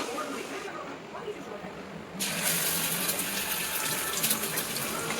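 Water runs from a tap into a kitchen sink during home cooking, a soft trickle that swells into a louder, fuller gush about two seconds in and keeps flowing, with faint voices in the background.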